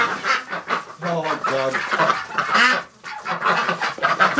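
Muscovy and Pekin ducks and geese calling nearby in a winter pen, honks and quacks overlapping in bursts, with a person speaking briefly among them.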